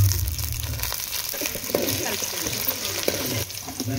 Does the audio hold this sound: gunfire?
no